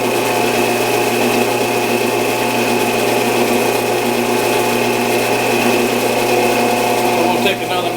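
A lathe runs steadily, cutting a brake disc in a reverse-disc setup, with a constant mechanical hum and whine that holds even throughout, fairly loud, and a person talks over it.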